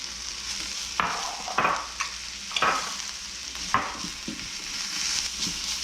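Capers and mushrooms fry in a pan over medium-low heat with a steady sizzle, broken by several scraping, clattering stirs of a utensil against the pan.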